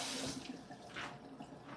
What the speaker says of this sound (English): you rinse it off. And I use warm water to rinse off.